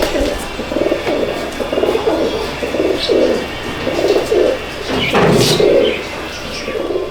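Pigeons in a Kolkata loft coo in repeated low, throaty bursts close by, with soft rustling and a brief knock midway, and no clear talk over them.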